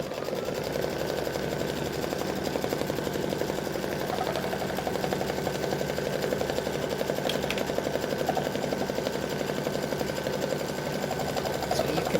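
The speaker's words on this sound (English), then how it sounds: "this is going to stitch out a placement stitch for your pumpkin fabric" Embroidery machine sewing a placement stitch for an appliqué pumpkin, a steady fast whirring hum with rapid needle ticking that continues without a break at moderate loudness.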